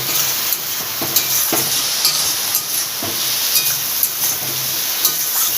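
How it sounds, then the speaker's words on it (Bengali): Banana flower curry with salt being stir-fried in a pan: a steady sizzle with repeated scraping strokes of a spatula at a moderate pace, close and fairly loud, with no talk. "এবার এটা ভালোভাবে কষিয়ে নেব"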